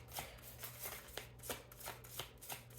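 Tarot cards being shuffled by hand, a run of soft papery riffles and slaps repeating at a steady rhythm, close and fairly quiet over a low steady hum.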